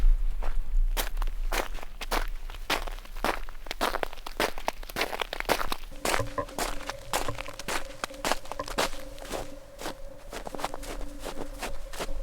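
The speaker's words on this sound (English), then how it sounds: "Me crunching my footsteps in snow." Steady footsteps crunch through snow at a walking pace, each step a sharp, close crunch. A faint low hum comes in about halfway through.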